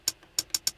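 Hi-hat from a Digitakt drum machine in a minimal techno pattern, four short crisp ticks alone with uneven spacing, the last three closer together, moderately quiet.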